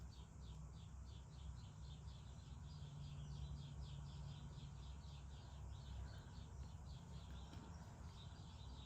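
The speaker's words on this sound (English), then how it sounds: "Do you guys hear the birds right outside my window?" Birds chirping just outside a window, a faint rapid series of repeated high chirps running through most of the stretch over a low indoor hum.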